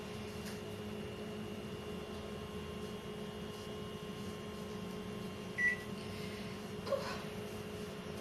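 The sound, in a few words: microwave oven finishing with beeps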